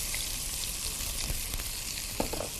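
Two medium onions frying in a pan for Hyderabadi bagara baingan, a dense continuous sizzle close up with a few faint stirring clicks.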